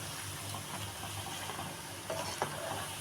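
Cabbage manchurian made with cornflour fries steadily in hot oil, a soft continuous sizzle with a few louder scrapes and clinks as pieces are gently turned in the pan.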